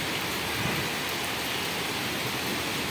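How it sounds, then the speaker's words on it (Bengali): Heavy rain pours down in Gulshan, Dhaka, as a dense, steady hiss. The downpour stays loud and even for the whole three seconds and nothing else is heard. "ও মাই গড, কঠিন বৃষ্টি।"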